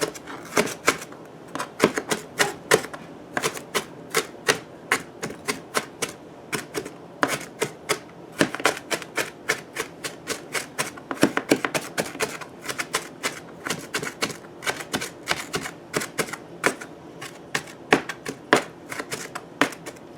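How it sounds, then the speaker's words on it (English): A knife roughly chopping carrots, onions and celery on a cutting board, a steady run of sharp, close, rapid taps with brief pauses between bursts. "I'm just going to roughly chop these"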